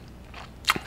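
A short, close crunchy bite into crisp kimchi comes after a near-silent pause, one sharp crackling crunch followed by a soft chew.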